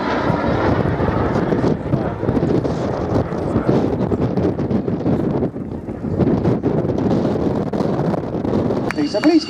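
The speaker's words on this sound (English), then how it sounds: "in for his final pass comes the Belgian F-16 and a wing rock to finish" A Belgian Air Component F-16 fighter jet roars through a final display pass with a wing rock at an airshow, its loud, steady engine noise filling the whole stretch with a brief dip midway, mixed with wind buffeting the microphone.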